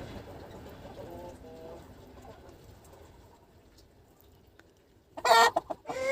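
Low, muttering clucks from a broody hen run quietly through the first part, then louder squawking bursts break out near the end.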